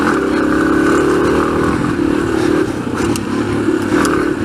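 An air-cooled dual sport motorcycle engine ridden hard, a loud, steady throaty drone held close with slight wavering in pitch and faint mechanical clatter throughout.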